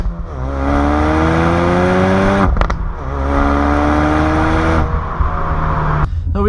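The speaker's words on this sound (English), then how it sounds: "you get some pops and cracks." A 2016 Ford Focus in sport mode revs up in repeated rising sweeps, with sharp exhaust pops and cracks as the throttle lifts, loud and close.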